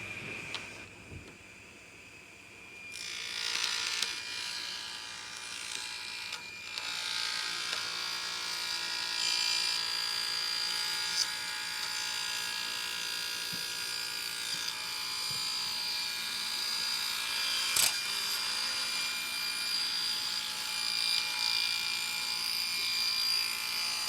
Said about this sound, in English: I'm going to cut my wood.